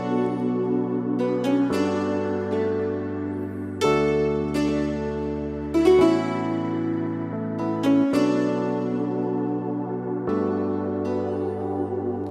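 A pop beat mix layers a melodic guitar line over Rhodes electric piano chords and soft synth pads, with a steady low bass and chord changes about every two seconds, full and close.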